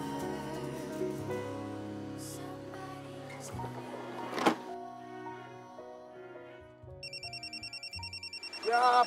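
A telephone rings in a pulsing electronic ringtone near the end, in a TV drama scene, after a stretch of soft background music.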